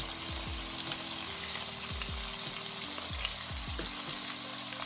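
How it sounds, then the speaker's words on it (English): Turkey necks sear in a hot pan with a constant loud sizzle, while several heavy low thuds and knocks sound as the pieces shift and land in the pan. "really nice sear on that turkey neck"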